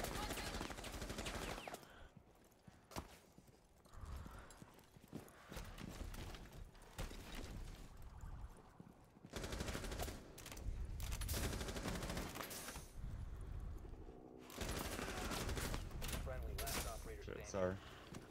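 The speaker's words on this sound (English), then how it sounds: "Crouch, Osa, they'll shoot your legs" Rapid bursts of gunfire from the Rainbow Six Siege video game crackle in repeated volleys over about eighteen seconds, dense and fairly loud, with brief lulls and a player talking over it.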